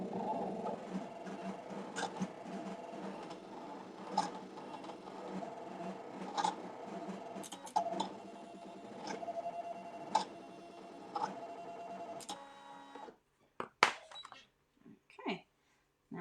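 An electric cutting machine slicing paper for a picture frame, running as a steady mechanical whir with regular ticking for about thirteen seconds before stopping, followed by a few scattered knocks and clicks.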